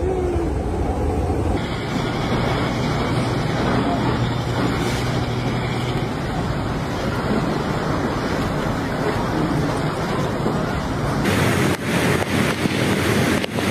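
Large waves of floodwater surge through flooded streets in Metro Manila during heavy rains, a loud, continuous rushing wash with a low rumble and a brief harsher burst near the end.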